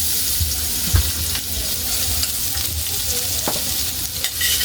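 Garlic frying in a pan with fish, a steady close sizzle with occasional stirring knocks and scrapes against the pan.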